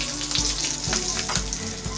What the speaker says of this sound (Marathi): सुक्या मिरच्या ज्या आहेत त्या आपल्याला या फोडणीमध्ये घालायच्या आहेत